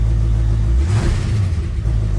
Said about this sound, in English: The exhaust sounds terrible, and there's a vibration.